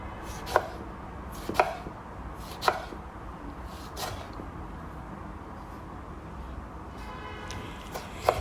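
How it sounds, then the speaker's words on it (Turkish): A knife chops tomato finely on a cutting board in sparse, evenly spaced sharp knocks, five or six in all, close up over a steady background hiss. "Yine minik minik doğrayalım."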